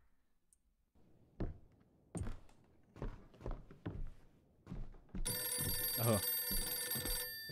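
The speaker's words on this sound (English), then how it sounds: "Forgot that that phone rang." Telephone ringing in the horror video game Visage, a bright electronic ring starting partway through after a series of clicks and thunks, loud and sustained, with a brief exclamation just before.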